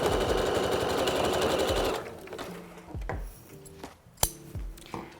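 A sewing machine stitches the curved crotch seam of a pair of trousers in a steady, rapid run for about two seconds, then stops, followed by scattered clicks and fabric handling nearby.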